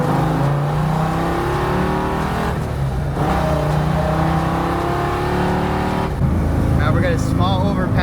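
A V10 engine in a custom Lincoln Continental build drones loudly while driving, then revs and climbs after a downshift; people talk in the cabin over the steady engine roar.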